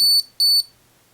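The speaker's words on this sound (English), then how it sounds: "So it just beeps." Two short, high-pitched electronic beeps in quick succession, clear and close, from an Anker Prime 250W 27,650mAh power bank's find-device alert, followed by silence.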